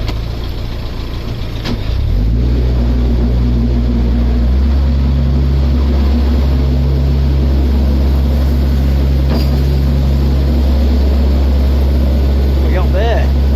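A narrowboat's engine runs at about 2,000 RPM on the River Nene. A loud, steady, low drone fills the whole clip and climbs in pitch as the engine revs up around the two-second mark.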